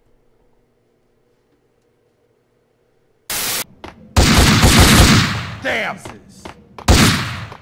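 Gunfire erupts in a video game after a near-silent start: sudden loud bursts of rapid shots and crackling blasts, close and harsh, while someone shouts in frustration over them.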